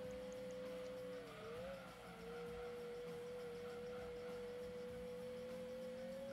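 A steady, smooth electric-sounding car engine whine in Gran Turismo 2 holds a single pitch, dipping briefly before settling again, fairly quiet and continuous with no talking.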